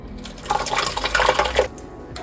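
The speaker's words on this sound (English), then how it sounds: "We're going to pour the bleach directly into that." Bleach pours into the brine well of a Rheem water softener, a short burst of splashing, trickling liquid that swells then stops abruptly.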